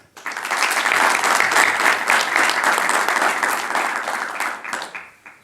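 A press room at Raja Casablanca bursts into applause welcoming new coach Marc Wilmots, dense clapping swelling quickly, holding strong for several seconds, then tapering off at the end.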